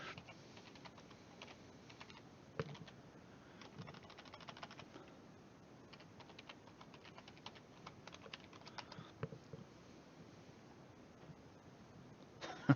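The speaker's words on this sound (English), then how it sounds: "Maybe I should type something for Katie." Soft, steady tapping on a computer keyboard while typing a chat message during a live stream, quiet keystrokes in uneven bursts against a faint room hiss.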